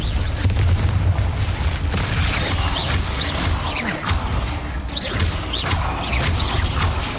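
Bombarda blasting spell from the Hogwarts Legacy video game, a continuous barrage of booming crashes, whooshes and rumbling debris that stays loud and dense from start to finish.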